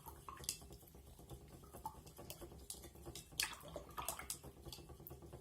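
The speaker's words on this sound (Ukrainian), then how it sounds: "І ще розмішуємо цукор." A spoon stirring sugar into coloured water in a glass, with quiet clinks and tapping against the glass in an irregular rhythm, faint and close, with no talking.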